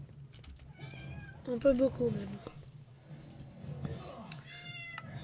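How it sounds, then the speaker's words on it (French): A pet cat meows several times, close to the microphone, with short rising calls over a steady background hum while someone talks over it during a Minecraft gaming session. "C'est mon chat qui miaule."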